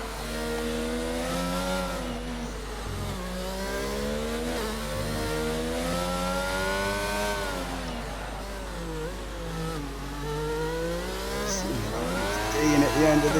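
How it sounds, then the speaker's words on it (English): Racing car engine in the F1 22 video game, a steady high-pitched whine climbing and falling as it revs through wheelspin, continuous and fairly loud throughout. "a lot of wheel spin there"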